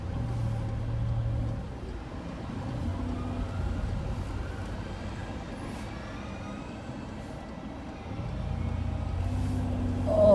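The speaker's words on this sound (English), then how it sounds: "Traffic here is pretty hectic." Busy, hectic road traffic passes during a long drive, heard as a continuous loud rumble of cars and heavier vehicles that swells and eases, with no talking.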